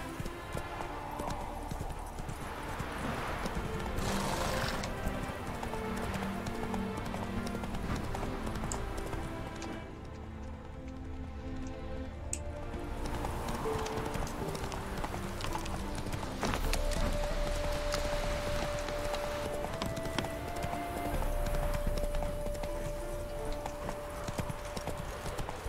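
Roach, a horse in The Witcher 3, gallops with a continuous, rhythmic clip-clop of hooves that runs throughout the clip, layered with game music and ambient noise, with a brief whinny.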